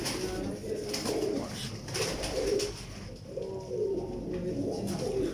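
Teddy pigeons from a breeder's loft give low, rolling coos in several overlapping bursts, close and steady, against a busy background.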